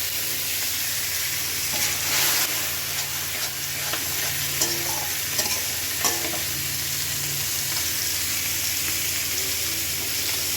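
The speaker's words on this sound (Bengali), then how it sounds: "মাছটা একটু হালকা ভাজা হয়ে গেলে" Pangas fish fries in spice masala in a pan, stirred and turned, with a steady loud sizzle and faint spatula scrapes throughout and no talking.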